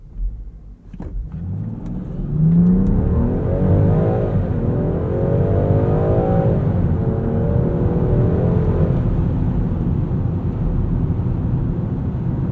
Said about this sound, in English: one thing we didn't really do is a 0 to 60, so let's squeeze that in really quickly here